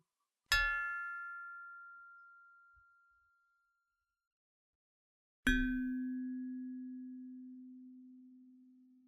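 Two struck metallophone bars with optimized, perforated shapes ring out one after the other. The first gives a bright, clean tone that decays over about three seconds. The second is a lower, sustained note that carries on to the end of the clip.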